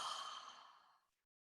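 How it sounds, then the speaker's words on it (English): A single deep exhale during a guided breathing exercise, a soft, airy breath out that fades away into silence, alone and close. "Deep breath in, and let it out, exhale."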